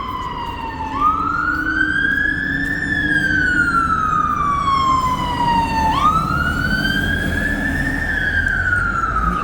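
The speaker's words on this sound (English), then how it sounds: "This is a second fire engine." Fire engine siren wailing as it moves along a busy London street near Brick Lane, loud rising and falling tone sweeping twice, close and dominant over steady traffic rumble.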